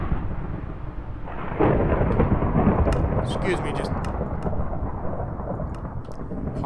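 Heavy thunderstorm sound effect from a live stream, with a continuous loud roar of rain and thunder rumbling throughout while a person speaks briefly over it.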